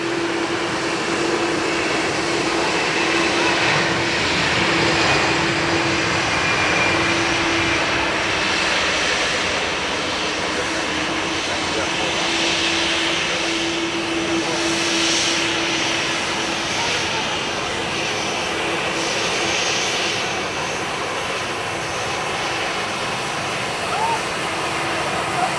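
A Qatar Airways jet airliner at Dublin Airport gives a steady, continuous engine roar with a faint hum running underneath, holding at an even level throughout.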